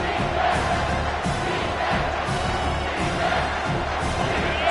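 Stadium crowd in a College Football 25 video game roars steadily and loudly throughout, a dense continuous wall of cheering.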